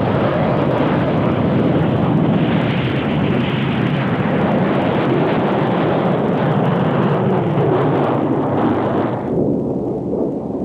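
Yakovlev Yak-141 jet fighter making its first flight in short takeoff mode, a loud continuous roar of jet engine noise that holds steady throughout, then thins slightly near the end.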